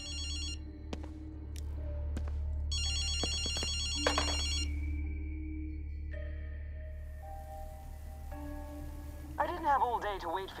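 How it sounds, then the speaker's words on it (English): A telephone rigged to ring periodically in the video game Ghostwire: Tokyo, giving bursts of electronic bell trills over a low ambient hum and other game tones, fairly quiet, with a voice speaking alongside. "so I rigged this phone to ring periodically and play back a recording"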